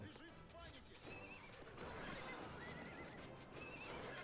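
Horses neigh and whinny repeatedly in the real-time strategy game Cossacks II, with clip-clopping hooves and battle clatter underneath, a dense, steady mix at moderate volume throughout.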